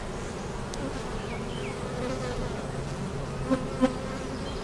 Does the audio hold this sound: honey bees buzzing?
yes